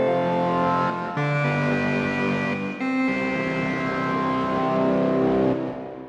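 Dense, distorted synth chords with a slightly off-kilter, unusual tuning, sustained and shifting a few times over several seconds, loud and buzzy with no talking.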